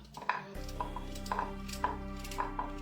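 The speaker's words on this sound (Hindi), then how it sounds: "इस तरह से मैं सारी गाजरों को रफली कट कर लूँगी।" A knife roughly chops carrots steadily on a cutting board, about six evenly spaced thuds, close and clear over a faint background hum.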